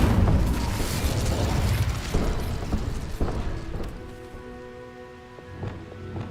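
An Incendio fire spell cast in Hogwarts Legacy gives a loud, crackling whooshing burst, with booming, rain-like sizzle that fades over several seconds into quieter tonal game sounds.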